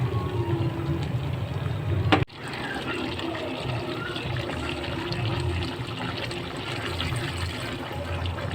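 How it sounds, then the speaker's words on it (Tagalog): Canned pineapple juice is poured into a pot of Filipino pork menudo, a soft liquid pour and splash heard at close range. A sharp knock cuts in partway, and the trickle continues faintly afterward. "At sabawan natin ng pineapple juice."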